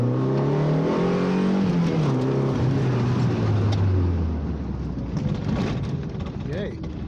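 A Toyota 3.0 engine revs under boost while driving, a loud rising and falling drone that climbs in pitch, then eases off as the car settles toward a quieter cruise.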